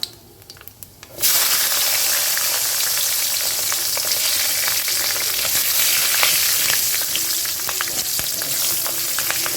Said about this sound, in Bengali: যেটুকু তেল বেঁচে রয়েছে তার মধ্যেই আমি ফোড়ন হিসাবে দিয়ে দেবো কালো জিরে আর কাঁচা লঙ্কা